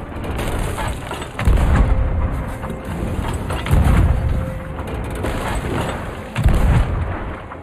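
Heavy ship cannons booming during a naval fight in Sea of Thieves, with three loud low blasts spaced a couple of seconds apart over a constant rumble of sea and game noise.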